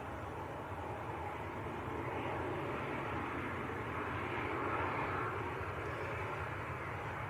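A Jet2 airliner taxis at Manchester Airport, a steady distant engine rumble and whine holding at low volume throughout, no voices over it.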